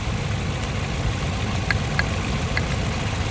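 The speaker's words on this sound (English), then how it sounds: "So there is a difference in the engine noise." Nissan Silvia S13 with a CA18DET engine idling with one spark plug lead pulled off, producing a steady low rumble with faint uneven ticking, close and continuous.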